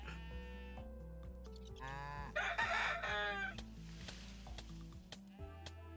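Roosters in the video game Necesse crow repeatedly and cluck, layered with bleating sheep and other farm animal calls over a steady background music bed, fairly quiet overall.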